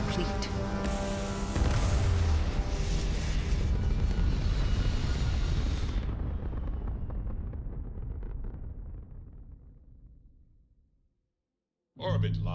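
A spaceship lifts off in the game Starfield with a loud, broad engine roar that swells, holds, then fades away to silence before another burst of sound starts.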